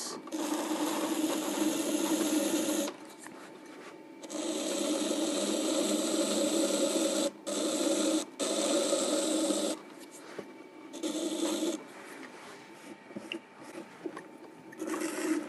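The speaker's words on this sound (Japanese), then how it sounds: "高台を削っていきます" Trimming tool scraping the foot ring of a 30cm clay plate turning on an electric potter's wheel, giving a steady close rasping in long bursts broken by short pauses.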